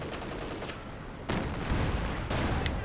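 Bursts of DP light machine gun fire in the strategy game Company of Heroes 2, two sharp onsets of rattling automatic fire at moderate distance over ongoing battle noise.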